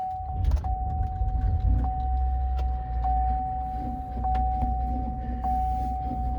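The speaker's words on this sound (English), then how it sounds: "There's some kind of bearing noise." A GM 3.6 V6 engine in a Chevrolet Traverse, run without coolant and with a check engine light, runs steadily with a low rumble, a constant whining tone from a bearing, faint periodic ticks and occasional nearby clanks.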